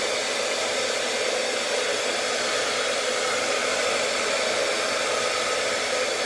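A hair dryer blows steadily and loudly while hair is dried with a round brush, its airflow a constant close whoosh with no talking over it.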